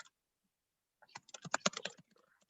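Typing on a computer keyboard: a short, quiet burst of quick key clicks close to the microphone, about a dozen taps in a second, alone in an otherwise silent room.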